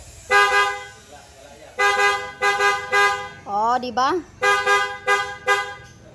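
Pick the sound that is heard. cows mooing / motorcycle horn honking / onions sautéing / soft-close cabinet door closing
motorcycle horn honking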